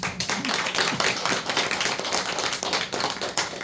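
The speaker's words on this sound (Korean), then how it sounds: "박수 한번 우리." Dense, steady clapping from an audience at a business presentation, a loud continuous patter of many hands filling the whole stretch without talk.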